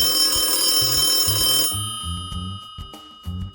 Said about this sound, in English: that's when the restaurant's phone rang.